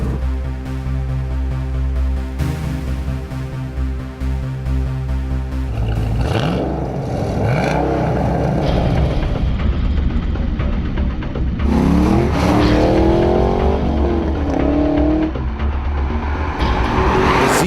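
Nissan GT-R Track Edition and Chevrolet Camaro Z28 with its big V8 launching down a drag strip, loud engine roar building under rising revs with tire noise, the pitch sweeping up through several gear changes.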